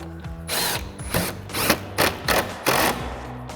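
A power tool with a 10mm socket drives a bolt on a headlight bracket of a 2018-2020 Ford F-150, whirring in five or six short close bursts separated by brief pauses.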